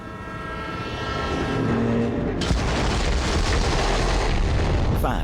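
A train in the video game Borderlands 3 rumbles loudly and continuously with a horn-like tone, then a sudden heavy surge of rolling noise takes over midway and keeps going to the end.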